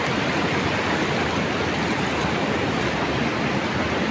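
Rushing water of the cold Arun river near the bridge joining Pakhribas and Hatuwagadhi, where water is being diverted: a dense, steady roar that fills the whole stretch without a break.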